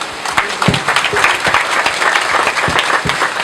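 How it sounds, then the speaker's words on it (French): Audience applause at the end of a speech at a school end-of-year ceremony, steady dense clapping from a crowd filling the whole stretch, fairly loud and close with no talking over it. "vos applaudissements, s'il vous plaît"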